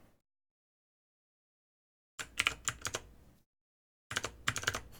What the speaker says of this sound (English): this is the keyboard that I'm using right now